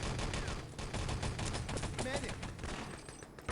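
Rapid machine-gun bursts in a competitive shooter match, a dense, steady stream of close shots with brief pauses that continues under loud game noise.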